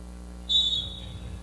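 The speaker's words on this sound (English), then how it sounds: "Next whistle's going to start the jam." A single short, sharp referee whistle blast starts a roller derby jam in a Texas men's roller derby game, shrill and clear over a low background hum.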